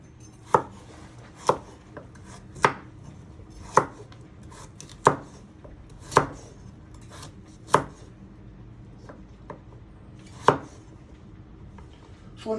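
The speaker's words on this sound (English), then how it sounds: "the reason why we're chopping them really fine like this" A knife chops carrots finely, about ten sharp, distinct knocks against the board at an uneven, unhurried pace, close up over a quiet background hum.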